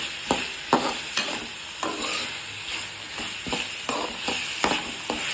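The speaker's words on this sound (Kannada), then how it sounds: "ಇದೊಂದು ಟೂ ಮಿನಿಟ್ಸ್ ಚೆನ್ನಾಗಿ ಮೆತ್ತಗಾಗೋ ತನಕ ಹುರ್ಕೋಬೇಕು" Poha ingredients sautéed in a pan, seasoned with Himalayan salt: a steady sizzle under repeated scraping strokes of a spatula, close and moderately loud, with no talking.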